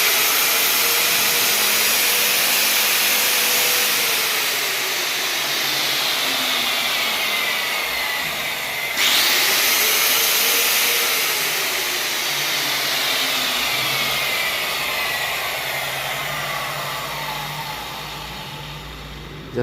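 A Makita 1200 W marble cutting machine rated at 13,000 rpm spins freely with a loud, steady high whine, its pitch briefly dipping and recovering midway, with no speech.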